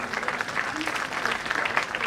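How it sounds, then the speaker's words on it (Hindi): Applause from the audience at a railway week award ceremony, steady clapping that stays fairly faint and distant, with voices audible underneath. "जोरदार तालियां।"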